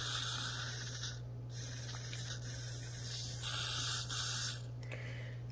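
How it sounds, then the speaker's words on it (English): A continuous hissing spray from an aerosol can used in repairing a chipped tail light, broken by a couple of short pauses, with a low steady hum underneath and no voices. "what I usually do is I just, spray it in here"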